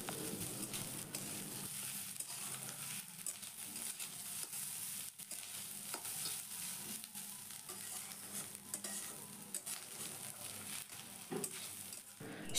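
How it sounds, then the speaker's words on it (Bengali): Coconut frying together with other ingredients in a pan, a steady sizzle with stirring scrapes running throughout at close range, with no talk. "সব কিছুর সাথে দেখো নারকেলটাকেও আমি খুব ভালো করে ভেজে নিয়েছি"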